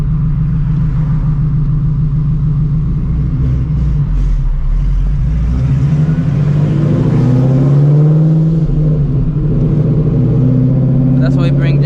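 An 800 hp Shelby GT350 Mustang on the road, its engine a loud continuous low rumble that swells as it accelerates, with a voice talking over the drone throughout.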